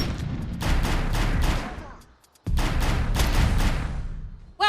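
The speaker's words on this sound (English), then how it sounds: "Oh, I forgot they had exploding stuff in here." Two bursts of rumbling explosions and rapid gunfire-like blasts in the video game Defiance 2050, separated by a short lull, loud and close.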